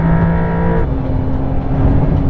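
A Porsche GTS sports car, one of the Cayman, 911 or Taycan GTS, powers out of a corner on a race track. The engine note is loud, continuous and close, shifting in pitch partway through, with no talking.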